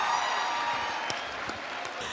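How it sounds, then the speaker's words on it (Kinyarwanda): An audience applauding for the comedian Merci at a comedy show, a fairly faint, brief wash of clapping with a couple of sharper claps standing out. "mu mwanya turi kumwe na Merci mumukomera amashyi"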